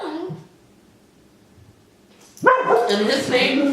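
Dogs bark indoors in a home, a short sharp burst at the start and then louder excited barking and yipping after a quiet gap, with a person speaking briefly over the first part.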